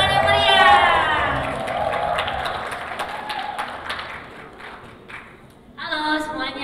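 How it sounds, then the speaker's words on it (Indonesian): An audience applauds and cheers to welcome a guest onto a show, a broad crowd roar with clapping that swells and then eases, with a presenter's voice heard before and after it. "Tepuk tangan yang meriah."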